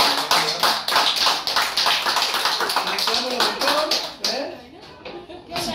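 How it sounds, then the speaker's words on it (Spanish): Applause for a youth football team at a friendly match, brisk rhythmic clapping close by with voices calling out over it, fading into chatter near the end. "Vamos a dar un fuerte aplauso."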